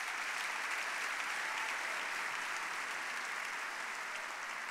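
Church congregation applauding steadily at a Christian congress, a dense, even wash of clapping that holds at a constant level throughout, with no voices breaking through.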